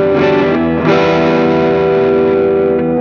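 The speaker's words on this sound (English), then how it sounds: "This is with the gain up." Electric guitar played through a £30 Klon clone overdrive pedal with the gain turned up, ringing out a sustained distorted chord that is restruck once, loud and thick with no voices.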